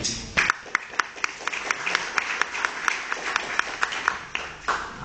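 Applause from the audience at a book presentation, moderately faint, with steady scattered clapping that carries on throughout and tapers slightly at the end.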